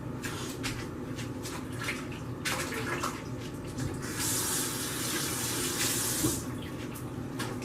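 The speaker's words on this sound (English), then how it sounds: "let me rinse my hands." A kitchen tap runs while hands are rinsed under it, a steady splashing water stream that grows louder and brighter partway through, with no speech.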